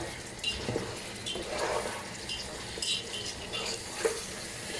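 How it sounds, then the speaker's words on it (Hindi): Mutton for kabsa sautés in a pot, oil sizzling softly beneath intermittent scraping and stirring of a spoon against the metal, close and moderately loud, with no one talking. "इसे बस मैं 1-2 मिनट भून लूँगी"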